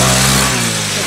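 An old, rattly three-wheeler revs at half throttle, a loud, close mid-range engine roar that drops in pitch partway through the short burst.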